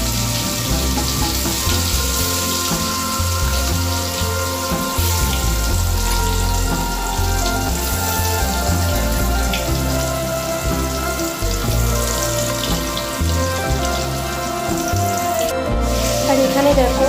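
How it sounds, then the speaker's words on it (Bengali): Teasel gourd (kakrol) coated in salt and turmeric fries in a pan of hot oil, giving a steady, dense sizzle that runs the whole time with occasional small crackles and a brief clink near the end. "এবারে আমি কাঁকরোলগুলো ভেজে নেব।"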